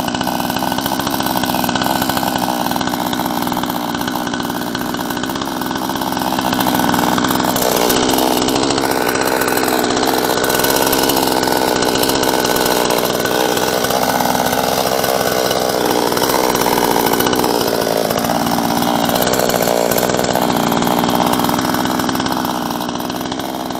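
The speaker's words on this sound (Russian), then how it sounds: "Так работает мотор." Chinese-made gasoline chainsaw engine running steadily after a cold start, a loud, continuous buzzing drone close by that rises slightly in pitch and intensity midway, with no voices.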